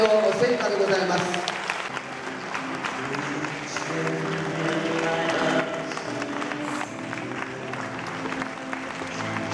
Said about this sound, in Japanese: 大きな大きな拍手でお迎えいたしましょう。